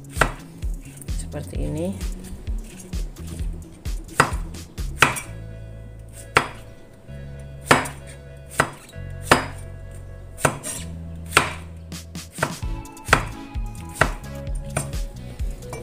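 A knife slices zucchini on a cutting board in a series of sharp, close thuds, irregular at first and then steady and evenly spaced, with a brief spoken remark at one point.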